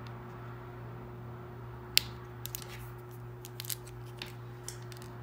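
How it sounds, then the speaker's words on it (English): Small, worn scissors snip the sides off acrylic nail tips while shaping them, a few sharp isolated clicks and short snips spread over several seconds against a quiet room hum. "I'm just gonna take some little scissors"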